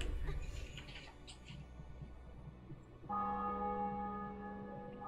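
Church bells begin ringing partway through a scene in The Witcher 2, a sustained resonant toll following a stretch of muffled background noise, moderately loud and ringing on.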